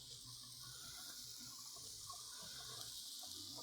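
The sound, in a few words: hands being washed under running tap water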